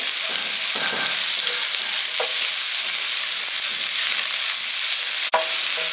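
Chopped chili and carrot sautéing in a hot pan: a loud, continuous sizzle and crackle right up close, with a brief scrape or clink near the end and no talking.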